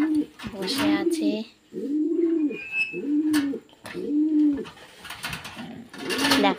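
A nesting pigeon sitting on a pair of eggs gives repeated rounded coos, about five in a regular rhythm, close to the listener, with brief chirps and faint voices between them.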